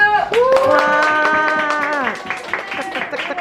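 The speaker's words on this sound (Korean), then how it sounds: "여러분 박수!" At an IT company's fourth-anniversary office celebration, a group claps while someone lets out a long, drawn-out cheer that rises and then fades, and scattered clapping continues afterward.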